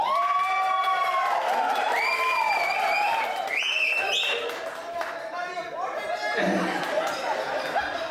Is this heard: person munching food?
no